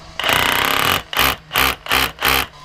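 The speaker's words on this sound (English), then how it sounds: "I'll drill a hole first, actually." A power drill bores a hole for an earth rod during a fuseboard installation, with one long loud burst followed by four short, evenly spaced bursts, close and alone.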